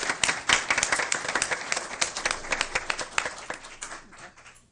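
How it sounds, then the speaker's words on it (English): A small crowd applauds the volunteers of the year at a Newport News school board meeting, with dense steady clapping that thins and fades toward the end. "Give them another round of applause"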